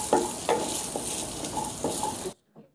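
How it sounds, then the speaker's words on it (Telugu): Large pieces of onion fry in a hot pan until golden, with a steady close sizzle broken by scraping stirs, then the sound cuts off abruptly near the end. "ఇప్పుడు ఈ ఉల్లిపాయ ముక్కల్ని దోరగా వేపుకుందాం."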